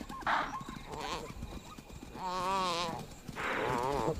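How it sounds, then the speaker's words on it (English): A topi antelope caught by hunting lionesses in the dark lets out two drawn-out, wavering bleats of distress over a low rustling background, loud and fairly close. "The chaser can hear the desperate bleat of a topi."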